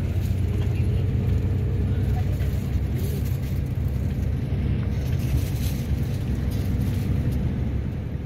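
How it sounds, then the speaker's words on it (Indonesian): A Palembang–Bandung intercity bus waits at the Kayu Agung toll gate, its engine and cabin giving a steady, loud, low rumble that runs unbroken throughout. "saat ini bus kita lagi berhenti nih di depan gerbang tol Kayu Agung"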